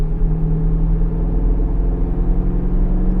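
Jeep Grand Cherokee engine pulling steadily under moderate throttle in fifth gear, a continuous low droning rumble with a strong steady tone, heard from inside the cabin with no talk.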